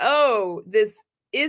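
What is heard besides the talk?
None of the usual background noises is heard.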